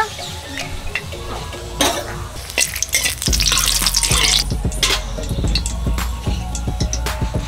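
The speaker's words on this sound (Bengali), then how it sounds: "কড়াইতে সরষের তেল দিয়ে দিচ্ছি, শুকনো লঙ্কা" Dried chilies sizzle in hot mustard oil, a sudden burst of loud crackling hiss with clinks of a utensil against the pan, close up and without speech.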